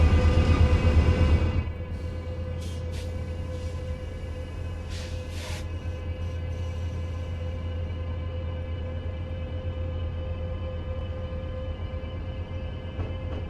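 A train running in the Train Sim World 4 video game on the Antelope Valley line, a steady low rumble with a brief louder start, then an even hum with faint high clicks.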